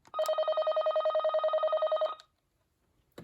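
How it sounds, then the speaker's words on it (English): An old home telephone, part of a Panasonic phone system, rings once with a steady, pulsing electronic trill lasting about two seconds, loud and close, then falls silent. "And this is the ringtone that she always had it set on."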